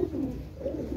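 A Teddy cross pigeon coos softly in short, low repeated calls, close by, with no talk over it.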